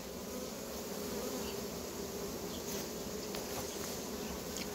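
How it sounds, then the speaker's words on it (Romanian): Honeybees with red tergites buzz steadily at the hive entrance, a dense, continuous drone of many insects heard close up, with brief louder passes of individual bees and no talk. "Deci acestea sunt albinele cu terghitele roșii."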